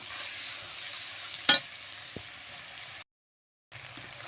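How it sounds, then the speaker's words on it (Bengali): Bitter gourd and potato pieces being stir-fried in a pan for a prawn curry, a steady soft sizzle with one brief louder scrape of stirring, then a short silent gap before the frying resumes. "উচ্ছে ও আলুগুলো দিয়ে দেব। দিয়ে ভালোভাবে কষিয়ে নেব।"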